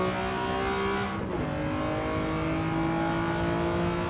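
A Toyota GR Yaris in Gran Turismo 7 on the Tsukuba circuit, its engine holding a steady loud drone with a brief dip and gear shift, then climbing again in pitch under acceleration, heard alone without talk.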